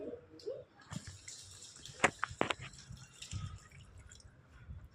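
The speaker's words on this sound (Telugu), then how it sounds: "ఈ ప్లాంట్స్ అన్నిటికీ నేను వాటర్ పోస్తా" Water poured from a container onto a row of potted plants, giving soft irregular drips, splashes and wet squishing sounds close by, with no talking.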